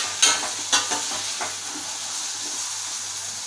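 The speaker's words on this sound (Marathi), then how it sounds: "आपण जो भोपळा घेतलाय तो टाकूया। छान आपल्याला परतवून घ्यायचं आहे।" Red pumpkin is tossed into a hot pan and sautéed for a Malvani-style bhaji, a few quick clattering scrapes followed by a loud, steady hiss and sizzle close by, with no talking.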